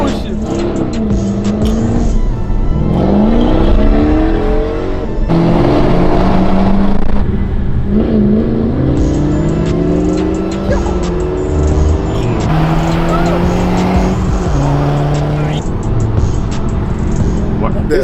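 At a car meet, an engine downshifts and revs hard, with rising and falling acceleration tones and gear changes that stay loud and close the whole time, while people talk and cheer over it.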